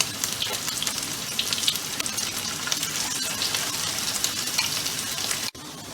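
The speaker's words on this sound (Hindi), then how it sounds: "चिकन है मीडियम आंच के ऊपर भी ये फ्राई हो जाता है आराम से" Boneless chicken pieces frying in oil over medium heat, giving a dense, continuous close sizzle that holds steady throughout and cuts out abruptly near the end.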